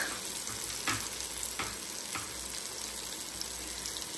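Masala-coated fish fries in a pan with a steady, close sizzle and crackle, a few soft stirring or spatter bursts rising above it, no talk.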